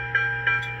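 A Big Boy model train bell rings out in three brief, evenly spaced dings over a steady background hum, fairly quiet and heard alone.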